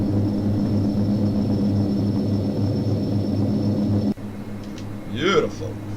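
A Majestic Q400 turboprop climbs out of Auckland in the Prepar3D flight simulator as its gear and flaps retract, giving a loud, steady propeller drone that cuts off abruptly, followed by a brief voice.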